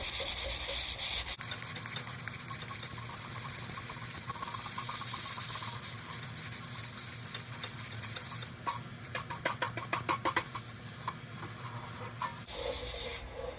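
A car body being sanded by hand with 180 grit sandpaper, producing a close, continuous rubbing hiss that turns into short, quick rhythmic strokes near the end, with no talking.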